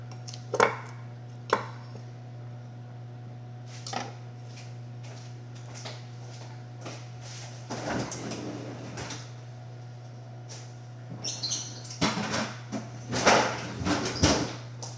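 Dough is put into a kitchen freezer, with scattered thumps and clunks of handling and the freezer door. Rustling bursts toward the end sit over a steady low electrical hum.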